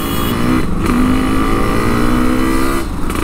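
A loud, close 2-stroke motorcycle engine runs at high revs with a raspy, buzzing drone that shifts pitch slightly as the throttle changes, with no talking.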